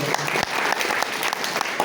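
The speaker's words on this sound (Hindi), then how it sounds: "एक बार मैं चाहूंगा कि उनके लिए जोरदार ताली बजाए सब लोग" A crowd at a youth rally claps for a visiting team from Mankapur, a fairly quiet, even wash of hand claps with a few sharper individual slaps standing out, no voices over it.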